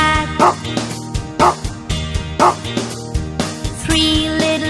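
A mother dog's woofs in a children's nursery rhyme, a run of four bouncy barks set over bright sung music, loud and close in the mix, probably sung or voiced rather than a real animal.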